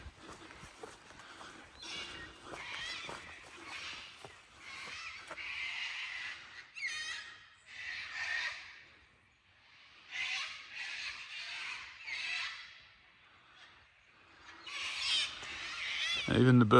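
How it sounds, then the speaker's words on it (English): Birds squawk and call intermittently from the bush along a sunny single-track walking trail between Ballarat and Creswick, in bursts of varying loudness with soft footsteps and movement throughout. "Even the birds sound appreciative of the sunlight."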